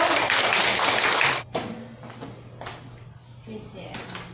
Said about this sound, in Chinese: 请热烈的掌声欢迎子荣